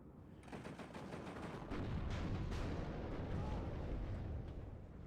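Gunfire from an SPG-9 recoilless gun in the WARNO wargame, a dense stream of booming shots and rumbling battle noise, steady and loud throughout with no clear gaps.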